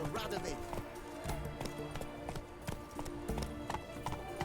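The horse Roach gallops in The Witcher 3, its rapid, rhythmic hoofbeats pounding close and steady beneath a voice and other game sounds.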